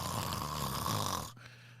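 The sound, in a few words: voice imitating snoring, growling like a bear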